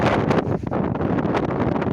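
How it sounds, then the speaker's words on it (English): Strong wind gusts across the microphone outdoors on the Isle of Arran during a storm, a loud continuous rumbling buffet that surges and dips without a break. "It's a wee bit windy."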